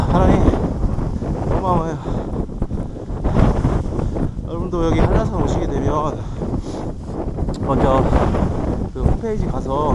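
Strong wind gusts buffet the microphone on Hallasan mountain, roaring steadily throughout while a person talks over it.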